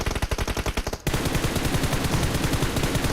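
An M249 machine gun firing in a video game, first as a rapid, evenly spaced burst of close shots, then after a brief break as a dense, continuous stream of fire. No one speaks.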